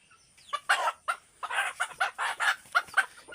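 A native rooster lets out a run of loud, close clucks and short crowing calls in quick irregular bursts, about eight in a row, with no talk over them.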